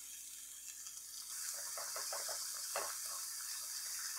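Pancetta sizzles and crackles in a hot pan, a steady hissing fry that grows louder after a second, with scattered pops.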